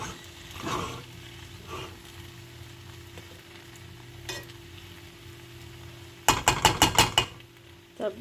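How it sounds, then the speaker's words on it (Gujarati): A spoon scrapes and clinks in a bowl of gram flour batter mixed with salt, with soft intermittent stirring followed by a quick burst of several sharp metallic taps near the end. "હવે બધું હું સરસ રીતે મિક્સ કરી રહી છું"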